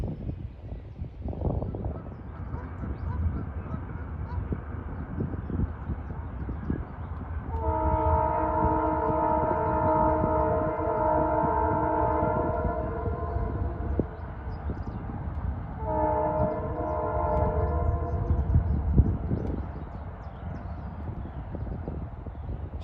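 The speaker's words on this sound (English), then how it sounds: "Southbound Metro North train making some noise approaching the Bear Mountain Tunnel, en route from Poughkeepsie to Grand Central." A southbound Metro North passenger train from Poughkeepsie to Grand Central rumbles toward the Bear Mountain Tunnel on the Hudson. It gives two long, loud horn blasts over a steady rolling roar of rail noise, with no voices.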